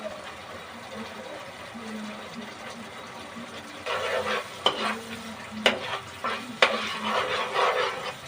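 Ginger garlic paste sizzles and fries in a pan for mutton mince, with steady frying hiss and bursts of spoon scraping and stirring clatter growing louder in the second half, no talk.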